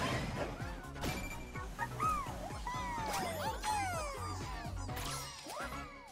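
A cartoon dog in the Astro Bot video game yips, barks and whimpers in quick, bright bursts over busy game music and crashing effects, the sounds close and fairly loud throughout.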